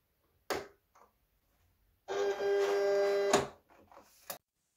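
Silhouette cutting machine cutting vinyl without a cutting mat, with a steady mechanical whirring hum for about a second and a half, framed by sharp clicks and knocks before and after.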